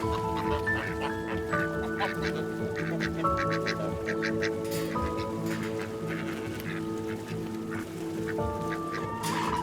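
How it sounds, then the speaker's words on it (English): Wild ducks quacking and honking on a farm, repeated loud calls overlapping in an irregular chorus throughout, close by and continuous. "And we got more magnificent wild ducks."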